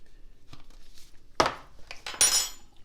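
A metal teaspoon clinks against a bowl while adding xanthan gum to a gluten-free flat bread mix, a couple of sharp close clinks and scrapes in a quiet kitchen.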